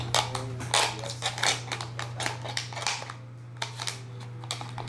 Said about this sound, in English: Use my scissors to cut around.